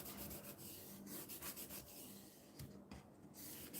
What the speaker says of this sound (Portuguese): Vou passar a espátula aqui para colar bem e não ter perigo de vazar.